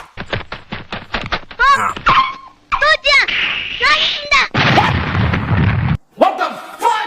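A sudden cartoon-style explosion bursts out with a loud noisy blast amid squeaky, chattering animated voices and quick sound effects.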